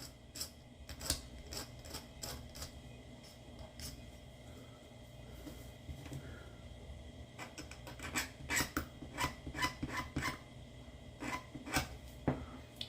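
Chrome being scraped off the bumper of a 1971 Plymouth Duster 340 Gold Dust during final assembly, heard as a run of short, close rasping strokes in irregular bursts, faster and denser toward the end, with no talking.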